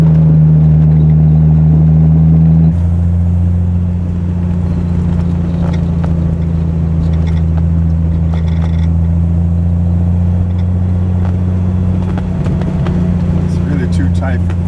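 A Triumph TR6 engine drones steadily from inside the car while driving in third and second gears at about 30 mph, a low constant hum with a brief shift in tone early on and a voice talking over it.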